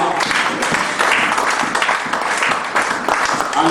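A church congregation breaks into sustained, dense applause, a steady rolling wash of many hands clapping with faint crowd voices mixed in.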